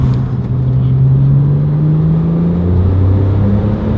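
A Porsche engine drones on a sunny mountain road, a steady close hum that rises slowly in pitch, then drops and holds, as the car climbs.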